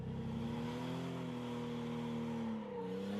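A car engine revs at high pitch during drift practice on a figure-eight course, a sustained loud drone rising and falling slightly, heard from inside the cabin.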